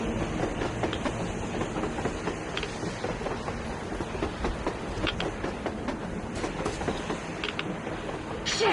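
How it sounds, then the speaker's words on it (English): A train passing on the surface in the video game Metro Exodus, a steady rumbling rattle with repeated clickety-clack wheel beats and occasional metallic clanks, fairly close and continuous, no voices. "A damn train on the surface!"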